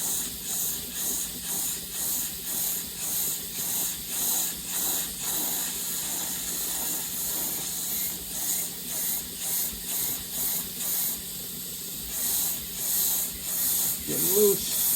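Steam hisses in regular pulsing bursts against a vintage 1970s Martin 12-string guitar neck joint to loosen it, a loud, close, steady hiss with a faint tonal hum under it.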